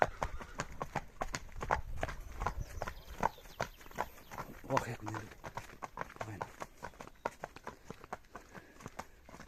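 Belgian draft horse hooves clip-clop in a steady, even rhythm close by, with people talking over them.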